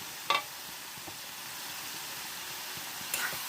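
Mushrooms fry in a pan, giving a steady, moderately quiet sizzle with a couple of brief sharp clinks of a utensil stirring them.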